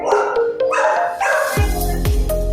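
Several dogs at an animal shelter bark loudly and repeatedly, overlapping yips and deeper woofs close by, with no talking.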